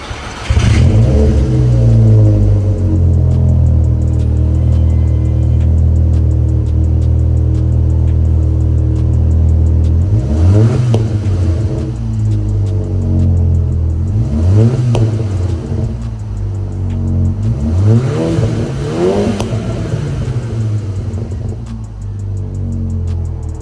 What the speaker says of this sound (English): let me know what you guys think of the sound of that exhaust